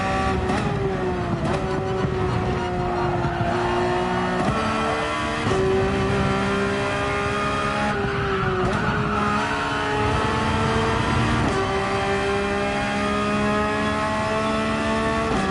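Race cars scream around the Monza circuit in Gran Turismo 7, engines revving loud and continuously, with pitch repeatedly climbing through gears and dropping on downshifts and braking.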